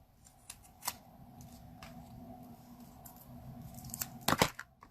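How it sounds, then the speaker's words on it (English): Large scissors snip away overhanging paper in a quiet craft session, with soft scattered cuts and rustles, then a louder cluster of crisp crunching snips and paper handling toward the end. "So you can take a larger scissor, because it's definitely easier than with a snips, and cut off the overhang"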